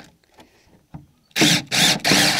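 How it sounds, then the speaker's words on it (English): A power drill drives screws into wooden framing while a feed bunk made from barrel halves is built, three loud close bursts of whirring after a quiet stretch of faint handling noise. "Just going to run screws to the sides."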